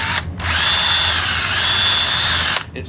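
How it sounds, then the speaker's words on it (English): A power drill bores into antler for a tomahawk display stand, giving a loud, steady high whine that starts abruptly and runs for just over two seconds before cutting off, with no talking. "So drill it, make sure you drill it deep enough."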